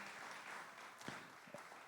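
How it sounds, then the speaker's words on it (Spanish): Audience applause for a guest musician at a talk event, a steady crowd clapping that carries on evenly through the short stretch at moderate volume, with no voices rising over it. "Se los entrego para que démosle un aplauso"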